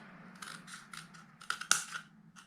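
Small scissors snip through a cardboard toilet roll in a quick series of crisp cuts, close and fairly quiet, with the sharpest snips bunched toward the end.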